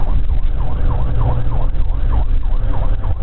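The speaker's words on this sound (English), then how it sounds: "killing lights and sirens" A police car siren wails loudly and without a break, rising and falling in quick, repeated sweeps that fill the whole moment, close by and with no voices over it.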